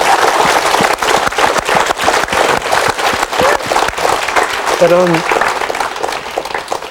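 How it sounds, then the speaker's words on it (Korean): An audience claps loudly and steadily for several seconds for a speaker who quit smoking, with a brief spoken word partway through. "오늘 한번 저를 위해서 박수를 한번."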